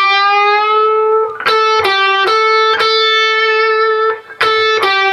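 An electric guitar with a slightly driven tone plays a riff, a run of sharply picked notes in a bouncing rhythm, with a brief pause before a final pair of notes, loud and close.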